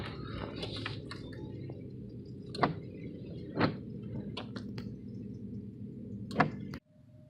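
An office door at the Kassay office, next to a trailer, opens with a few faint clicks and soft thumps spread over several seconds against a quiet hum. The sound cuts off abruptly at the end.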